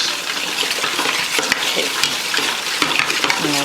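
Butter and flour stirred quickly in a hot pan, a continuous close sizzle with rapid scraping strokes and a few sharp taps against the metal, no one speaking.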